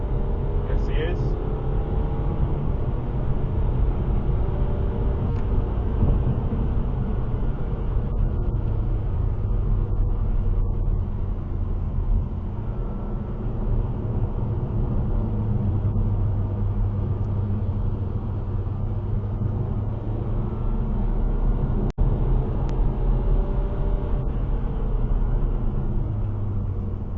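Car lapping the Brands Hatch circuit on a track day, a steady in-cabin engine drone and road rumble under full throttle through corners, with a driver talking over the noise.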